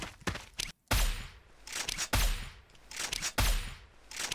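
Zenith AWP sniper rifle shots in the Sudden Attack game, three loud sharp cracks about a second apart, each trailing into a ringing decay, with smaller clicks and handling noises in between.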